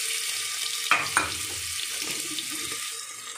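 Onions sizzling in a pan with cumin seeds in a home kitchen, a steady close frying hiss with a couple of sharp clinks from a utensil near the start.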